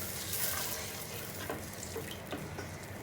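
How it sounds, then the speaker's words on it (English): Couple of cups of water poured into a hot pan of chicken on high heat for a British Indian restaurant pre-cook, giving a steady rushing hiss and sizzle throughout, close and continuous. "Now I'm going to add some water"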